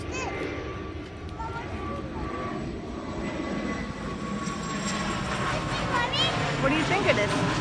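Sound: airplane flying overhead near airport

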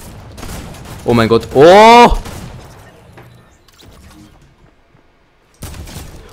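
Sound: gunfire from a sniper rifle in the video game Fortnite

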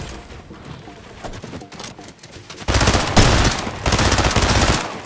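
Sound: gunfire in a video game

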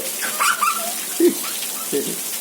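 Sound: rain falling

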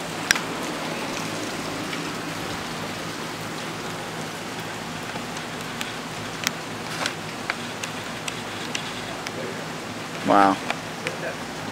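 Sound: rain falling

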